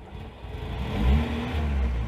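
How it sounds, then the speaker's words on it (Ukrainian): A VAZ 2107 car engine turns over and catches, then rises with a couple of throttle blips into a rough low idle, heard close and fairly quiet. "давайте зробимо перший запуск мотору"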